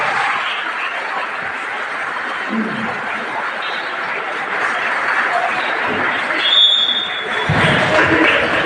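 Applause from students at Jawahar Navodaya Vidyalaya in Latur during a school talk, a steady wash of clapping that holds for several seconds, with some chuckling and murmuring mixed in.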